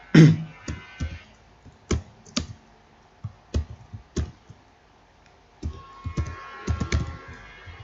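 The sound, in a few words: typing JavaScript code on a computer keyboard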